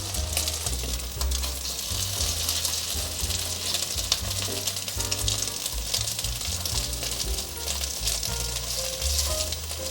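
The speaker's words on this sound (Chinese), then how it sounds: "这一面再让它煎一下，都已经煎成金黄色了" Starch-coated taro pieces, dusted in sweet potato flour, frying golden in a pan with a loud, steady, continuous sizzle and faint low rumbling throughout.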